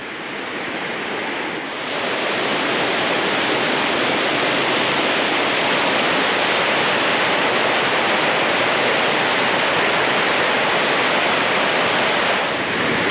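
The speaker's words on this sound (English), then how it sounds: "I'm sure you can hear it, I'm at pretty much the base of the falls." Sweet Creek Falls roars from its base as a dense, unbroken rush of falling water, loud and close, with wind buffeting underneath and no voices.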